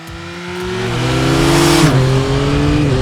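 A Yamaha Tracer 9 GT+ motorcycle pulls away close by, its engine note rising steadily as it accelerates, then dipping briefly at a shift before climbing again.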